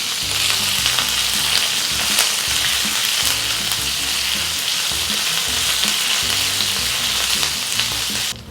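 Curry leaf sprigs sizzle loudly and continuously in hot tempering oil for a sesame chutney, a dense, close frying hiss with a faint tonal backing underneath that cuts off at the end.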